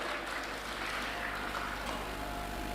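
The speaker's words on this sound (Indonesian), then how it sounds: "Kita berikan aplaus." Audience applause at a Golkar party event, a dense, steady wash of clapping from a large crowd that holds evenly throughout the clip.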